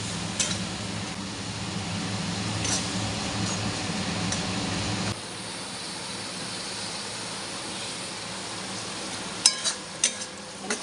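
A ground spice paste with tomato fries in a pan with a steady sizzle, which drops away about halfway through, followed by a few clinks and scrapes of a utensil near the end.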